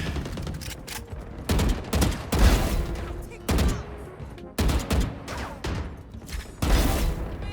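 Video-game gunfire rattles through a deathmatch in repeated bursts, sharp loud volleys with short gaps between them, close and punchy, with a few softer mechanical clicks in the pauses.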